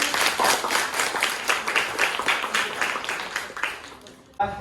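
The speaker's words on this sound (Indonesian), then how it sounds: "tepuk tangan untuk kelompok 1" A short burst of clapping from a small group, quick and uneven, tapering off before a brief thump at the end.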